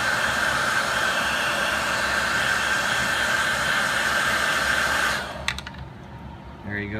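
A heat gun blows a steady, loud hiss of hot air to shrink a support piece of heat shrink tubing in the middle of soldered battery connector wiring. The hiss runs for about five seconds, then cuts off, leaving a few faint clicks.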